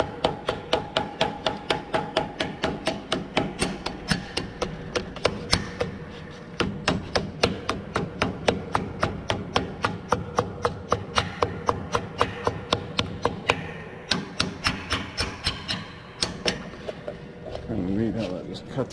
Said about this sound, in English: Small ball-peen hammer works really well.